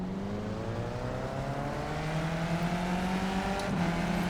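Race cars at Lime Rock in the iRacing sim game hold steady revs on the grid before the start, a loud, continuous engine drone with slowly rising pitch that swells slightly toward the end.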